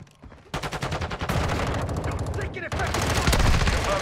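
Rapid automatic gunfire from the video game Modern Warfare II, loud and nearly continuous bursts of shots with brief gaps, close and dense throughout, with faint game sounds underneath.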